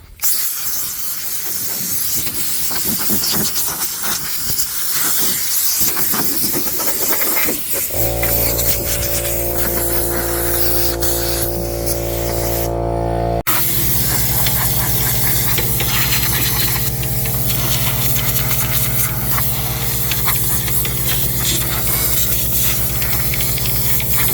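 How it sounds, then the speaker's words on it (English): An air compressor blows debris off a hay baler, giving a loud, sustained hiss of compressed air. Partway through, a strong machine hum joins the hiss and runs steadily to the end. "We're gonna grab our air compressor. and just blow it off."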